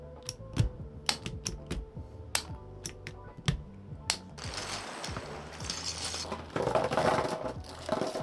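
Switches are pried one by one out of an MCHOSE Ace 68 magnetic keyboard, giving sharp, irregular plastic clicks and snaps close up, followed by a denser stretch of rustling and scraping handling noise.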